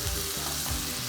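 Corn sizzles and crackles steadily in a hot pan, with brief stirring scrapes breaking through the bright, continuous frying hiss; close and fairly loud throughout, with no talk.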